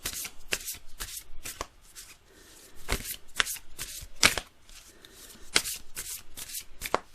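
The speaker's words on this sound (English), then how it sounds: "Just clear the energy and shuffle" A tarot deck, a love and relationship deck, is shuffled by hand in a run of crisp riffling bursts with short pauses between them, close and fairly quiet with no talking.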